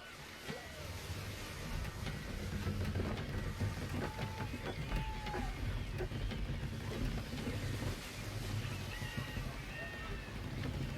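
A sailing ship under full sail in Assassin's Creed 3, with a steady wash of water and creaking hull noise beneath scattered game sounds and a talking voice, moderate and continuous.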